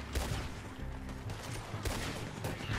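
Gunfire in the video game Red Dead Online, including machine gun fire, comes as a dense volley of overlapping shots with several sharper bursts at a moderate distance, with no talk over it.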